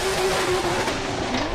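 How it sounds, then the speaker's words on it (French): A drift car's engine wails at high revs during a drift run, a loud sustained tone that dips and climbs again near the end, with tire noise and a broad roar beneath it. "Il profite un petit peu du moteur."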